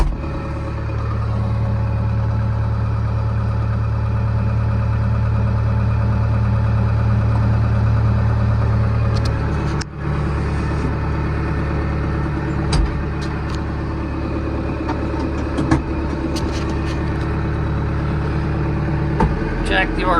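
A tractor engine idles steadily nearby, a constant loud low drone throughout with some faint knocks and clatter.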